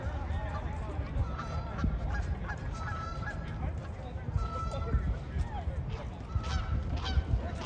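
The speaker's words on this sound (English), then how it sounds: "Geese over there are fighting, like pretty bad." Several geese fighting honk harshly and repeatedly nearby amid scuffling and flapping at the Six Flags Great Adventure amusement park, with people talking in the background.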